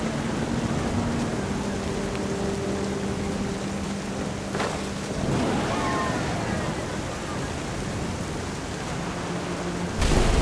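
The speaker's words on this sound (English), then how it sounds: "The thunder sounded much too close and full of angry power." Heavy rain hisses steadily through a thunderstorm in the video game What Remains of Edith Finch, with a low rumble of thunder rolling beneath and a sharper crack near the end.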